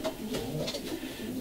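Racing pigeons in a breeder's loft coo softly and steadily, a low murmuring chorus of several birds close by with no talk over it.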